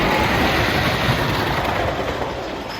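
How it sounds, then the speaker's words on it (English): The Leap The Dips wooden roller coaster train at Lakemont Park rumbles steadily down its first drop, a loud, continuous clatter of wheels on track that eases off slightly toward the end. "Coming around for the first drop here."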